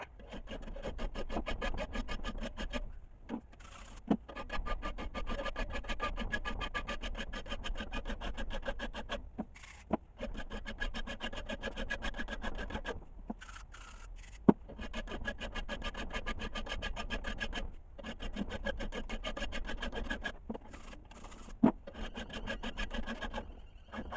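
Steady rhythmic rasping of a file on metal while a simple knife is forged, the strokes coming in quick repeated runs with brief pauses, close and moderately loud without speech.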